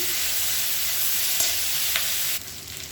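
Mint and coriander leaves sautéing for kuruma give a steady, close sizzle that holds evenly with a faint stirring tap, then drops quieter near the end.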